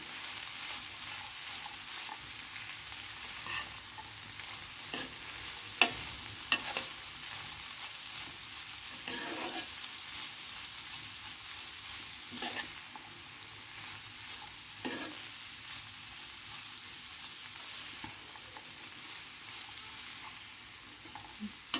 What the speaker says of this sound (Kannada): ಇವಾಗ ಒಮ್ಮೆ ಚೆನ್ನಾಗಿ ಮಿಕ್ಸ್ ಮಾಡೋಣ